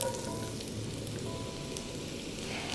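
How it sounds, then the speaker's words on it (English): Chopped shallots hiss and sizzle steadily in hot olive oil in a pan, a continuous close frying crackle without pauses. "Now we add the chopped shallots."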